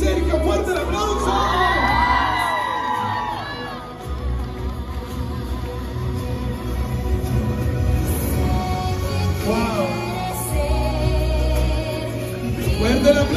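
A crowd at a quinceañera party cheers and whoops loudly and continuously, with children shouting, high excited voices rising and falling throughout.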